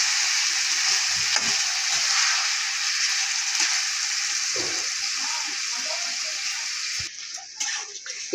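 Chicken meat frying in a pan with onions browned to a deep red, for a green coriander chicken dish; a steady, close sizzle with stirring scrapes runs throughout, ending in a brief louder clatter.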